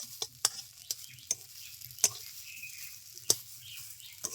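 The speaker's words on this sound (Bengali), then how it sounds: "তো এরকম ভাবে আরো 2-3 মিনিট আমি নেড়ে চেড়ে তারপরে নামিয়ে নেব" Bean bharta (mashed flat bean dish) stirred in a pan over medium heat: a steady soft sizzle with sharp spatula scrapes and taps every second or so, close and alone.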